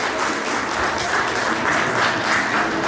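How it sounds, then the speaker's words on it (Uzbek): Sustained applause from an audience at a school alphabet celebration ceremony, steady and dense clapping that fills the whole stretch without a break. "Qarsaklar."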